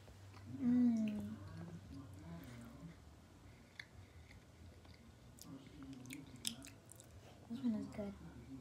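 Gummy candy sushi is chewed up close: faint, soft, wet squishing and mastication sounds in a quiet room, with brief murmured speech between bites.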